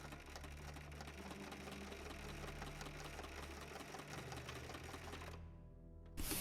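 A sewing machine runs steadily, stitching along a folded, interfaced belt for an 80s-style jumpsuit, its motor whirring with a fast, even mechanical patter that continues almost unbroken before cutting off near the end.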